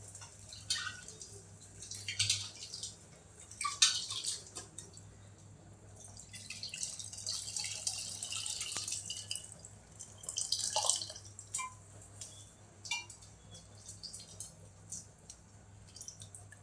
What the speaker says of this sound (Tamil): அதே மாதிரி புளி தண்ணி உள்ள ஊற்றணும்